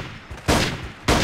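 Two sharp Desert Eagle pistol shots in the video game Trespasser, each a loud, abrupt burst with a short decaying tail, spaced about half a second apart, heard alone.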